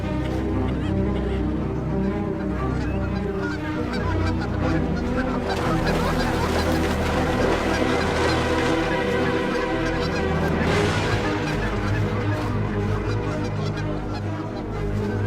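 A large flock of waterfowl honks continuously and loudly, many overlapping calls forming a dense, steady chorus without pause throughout, in the wild North American setting where bald eagles hunt during the season.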